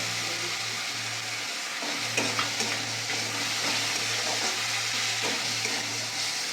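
Garlic and green chili sizzling in a pan over melted tomato, a steady frying hiss with occasional stirring clicks and a low hum underneath, no voices.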